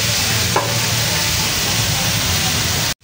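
Vegetables frying in a pan, steady dense sizzle filling the whole stretch with a brief stir clink near the start, then cutting off abruptly at the end.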